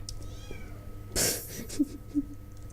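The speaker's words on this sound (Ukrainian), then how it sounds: "він же починає мяу-мяу-мяу-мяу-мяу-мяу-мяу" A pet cat gives one loud, close meow indoors, followed by a couple of small soft sounds, over a quiet background hum.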